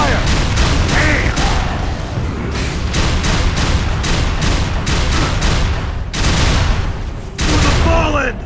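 Heavy gunfire rattles through a fast Unreal Tournament 3 match: dense, loud bursts of weapon fire and explosions in rapid succession, nearly continuous with brief gaps, with game voice announcements mixed in.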